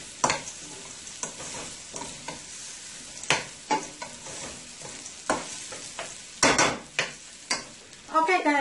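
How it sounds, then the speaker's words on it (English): Garlic and brown cumin (jeera) fry in oil for a Guyanese-style dhal, giving a steady close sizzle broken by repeated scraping stirs and bursts of crackle, with no talking. "You're going to let this fry with the oil, the garlic,"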